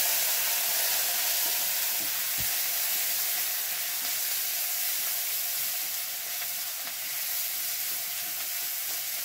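Mustard paste and chopped onion fry in hot oil for mustard hilsa curry, giving a loud, steady, close sizzle that holds evenly throughout.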